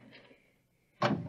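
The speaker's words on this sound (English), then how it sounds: "Now, this door is open." In a sci-fi radio drama, a metal door opens with one sudden loud whooshing burst after a quiet pause, preceded by faint voices.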